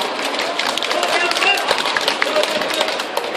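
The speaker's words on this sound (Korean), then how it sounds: "자, 박수 한번 부탁드립니다. 박수." A crowd claps at an outdoor Korean street talk event on national security, greeting a committee representative stepping up to the podium; dense, steady clapping mixed with crowd voices fills the whole stretch.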